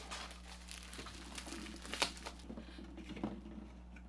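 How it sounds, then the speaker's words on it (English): Plastic wrap peeled and crinkled off a boxed 6-inch Luke Skywalker Funko Pop figure, soft close crackling and rustling with a few sharper crinkles over a steady low hum. "But before I try to take this apart, let's get this plastic off."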